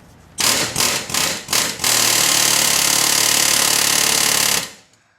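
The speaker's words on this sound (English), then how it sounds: "I'm actually taking in my air hammer with this little dead end bit on it, sneaking it up in there on the top of that U-joint and just pushing." An air hammer fitted with a dead end bit pushes on a U-joint during power steering rack work on a Toyota 4Runner. Several short, loud rattling bursts come first, then a sustained hammering run of a few seconds before it stops.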